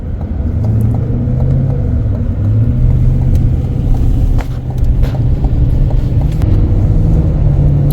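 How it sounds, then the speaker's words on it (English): City street traffic in Pula, Georgia: a constant loud low rumble of engines from cars rolling past close by, with faint clicks and ticks scattered on top and no talk. "There's a lot of traffic down here in Pula, Georgia."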